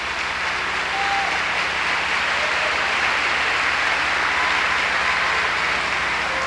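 Steady, dense applause from a church congregation during a sermon fills the whole stretch at an even, loud level, with no speech over it.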